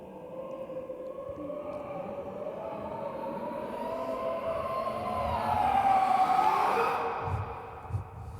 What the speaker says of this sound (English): We had them all just do one big inhale,